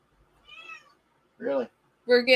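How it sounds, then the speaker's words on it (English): A feisty cat meows three times: a faint high cry first, then two louder, nearer meows in quick succession. "As you can tell, the cat's getting feisty."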